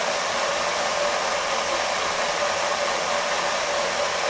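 A micro hydro turbine with a Turgo runner spins steadily under water pressure, giving a loud, continuous broadband whir and rush that holds even throughout with no pauses and no voices.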